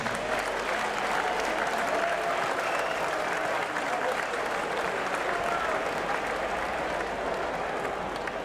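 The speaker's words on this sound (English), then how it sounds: "Ladies and gentlemen, please put your hands together for the umpires for this evening's match." A large crowd at a men's Premier League grand final, Nightcliff versus Southern Districts, applauding the match umpires with steady, dense clapping that holds at an even level throughout.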